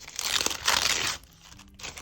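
A plastic surprise packet from a paper-toy unboxing is crinkled and torn open up close, with loud rustling bursts that die down into softer handling noise near the end.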